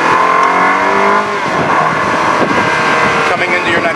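Ferrari F1 car engine screams at high revs, then drops sharply with quick blips as it downshifts into a corner, loud and close from onboard.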